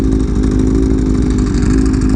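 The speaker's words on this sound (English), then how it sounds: "the dry clutch is so loud. It's literally louder than exhaust when he pulls in the clutch" Honda CBR Fireblade motorcycle running steadily up close, a loud continuous engine drone with the rattling clatter of its dry clutch layered over the exhaust, no voices.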